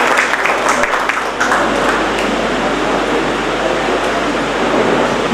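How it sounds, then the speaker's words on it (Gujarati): A seated audience at a community gathering breaks into sustained, loud applause, dense clapping that carries on evenly with a brief dip early on. "તો ફરી એકવાર તાળીઓ"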